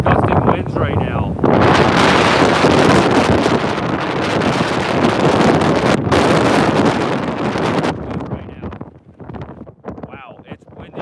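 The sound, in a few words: strong gusting wind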